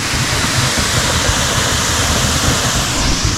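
A mountain waterfall stream in the Carpathians, its water flow much reduced, gives a steady, loud, broadband rush of falling and splashing water that holds even and unbroken throughout.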